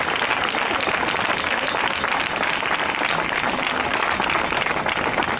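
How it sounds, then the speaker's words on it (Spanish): Loud, dense audience applause at a flamenco night fills the whole stretch, a steady wash of many hands clapping with no pause. "Por favor, un fuerte aplauso a esta gente que se la han currado,"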